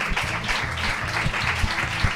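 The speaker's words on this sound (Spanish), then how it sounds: "¡Un aplauso, por favor, enorme!" Enthusiastic audience applause at a live comedy-drama stage show in Spanish, a continuous clatter of clapping with cheering swells, loud and close throughout.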